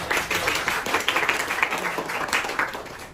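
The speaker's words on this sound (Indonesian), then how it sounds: "Berikan tepuk tangan buat teman-teman tadi." Clapping from an audience after a school presentation, a steady patter of many hands filling the whole stretch, moderately loud and dense, fading sharply at the very end.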